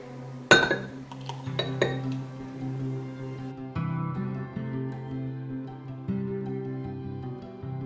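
A spoon stirs a matcha latte in a glass, giving a few bright clinks against the glass near the start and then softer, quieter ringing as the stirring settles.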